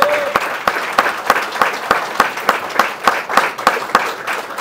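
An audience at an award ceremony for postgraduate groups gives the event organizers a round of applause. The claps are loud and fall in a steady, rhythmic beat for several seconds.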